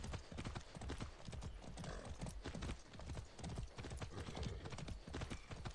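Horse hooves clip-clop steadily while riding in the video game Far Cry 6, a continuous rhythmic trot under busy game ambience with occasional whinnies.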